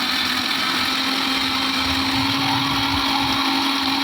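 A kitchen mixer grinder runs steadily at full speed, grinding chili, curry masala and turmeric powder, a loud continuous whirring motor drone that holds level from start to finish with no voices.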